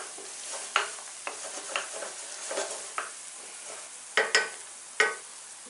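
Crushed garlic frying gently in a pan over low heat, a quiet sizzle broken by irregular scrapes and taps as it is stirred, close and without talk.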